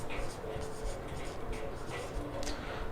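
A pen scratches out an entry in an accounting ledger, a soft continuous scribble under steady background noise.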